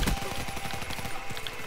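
Rapid automatic gunfire in a video game, a dense run of closely spaced shots rattling steadily through the short burst, loud and near.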